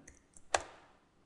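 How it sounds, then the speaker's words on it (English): Typing a terminal command on a computer keyboard: a few soft key clicks and then one sharper, louder keystroke, heard close with no speech over it. "that you can do by typing in"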